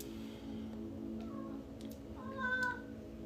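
A pet cat gives a couple of faint, short meows, the clearest one near the end, over a quiet, steady hum.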